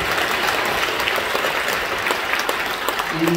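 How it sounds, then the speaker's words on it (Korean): A church congregation at Incheon Full Gospel Church applauds, a broad, even wash of clapping from many hands, heard at a distance and holding steady throughout. "우리 박수로 격려해 주셔서 감사합니다."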